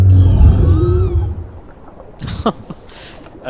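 A creature's distress call from the dinosaur survival game Path of Titans: a loud, low, wavering bellow with rising tonal cries that fades, followed by a few fainter short calls and shuffling sounds.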